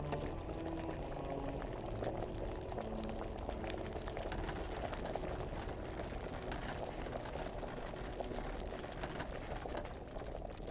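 A potion bubbles in a cauldron in Kingdom Come: Deliverance, a steady low boiling hiss and gurgle that holds at a constant level, faint and continuous, with no talk.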